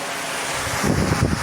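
A 12V air cooler's fan motor runs with a steady, close whooshing hum that swells slightly after the first second. No voices are heard.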